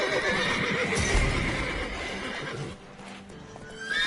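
Horses in The Witcher 3: Wild Hunt whinny loudly over a busy, noisy background, the neighing strong at first and fading toward the end.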